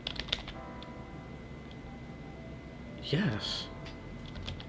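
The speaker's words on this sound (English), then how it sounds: "I can type my name and my stuff is there" Light, scattered key clicks from typing on a computer keyboard, soft and sparse against a quiet room hum, with a voice speaking briefly partway through.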